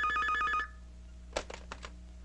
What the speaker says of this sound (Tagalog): Jerry, telepono.